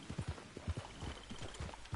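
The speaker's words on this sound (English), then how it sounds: "listen to the nature here and the rain, the water, the horse hoofbeats in Red Dead" Horse hooves clip-clop at a steady walking rhythm in the Red Dead video game, a close, even series of soft thuds with a faint ambient bed and no talk.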